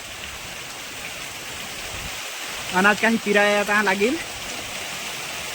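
River water flows in a steady, continuous rush that fills the whole clip, with someone speaking briefly partway through.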